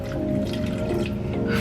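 Water poured into a pot for a thick chicken-broth dish, a short close liquid splash and trickle that stays steady and moderately loud.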